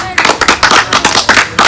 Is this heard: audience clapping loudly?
yes